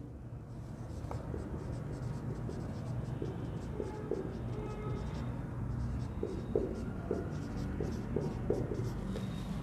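Steady scratching and scribbling of writing on a board during a vocabulary lesson, continuous strokes with small taps over a low room hum and some faint background speech.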